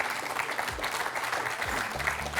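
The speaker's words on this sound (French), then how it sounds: "J'aimerais qu'on applaudisse encore nos 2 candidats pour ce magnifique match." A studio audience at a quiz show applauds the two finalists, a dense burst of steady clapping that carries on without a break, with faint voices underneath.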